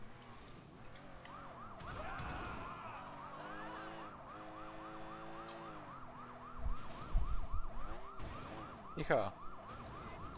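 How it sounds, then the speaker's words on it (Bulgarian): A car siren in the video game Sleeping Dogs wails steadily in a rapid repeating up-and-down pattern through the whole stretch, joined near the end by engine and crash-like thumps, with a brief spoken exclamation. "С тази кола става сирена."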